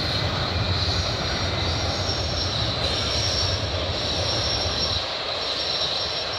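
A CN freight train hauling flat cars rolls past in Milton, Ontario, evening, its wheels squealing in a sustained high metallic whine over a loud, continuous rumble that eases slightly near the end.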